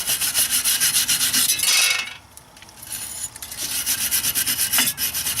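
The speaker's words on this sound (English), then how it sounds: "you always want to clean the mounting surface where the new rotor is going to be with a wire brush" Steady, rapid wire-brush scrubbing on the mounting surface of a BMW 3 Series E36 front brake rotor hub, close and loud, with one brief pause near the middle before the rasping strokes resume.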